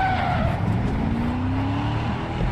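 Car tires skid and squeal in Far Cry 6, a loud sustained screech over a revving engine drone, lasting the whole short stretch without pause.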